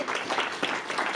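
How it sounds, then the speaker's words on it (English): Audience applause at an investment presentation on the Adaptiv Select ETF, a steady broadband patter lasting about a second at moderate level with no talk over it. "Round of applause."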